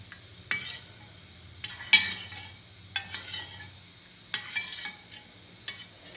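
A spoon whisks custard powder into cold milk in a bowl, giving repeated bursts of swishing and light clinks against the sides, close and fairly quiet, with short pauses between strokes and no talking.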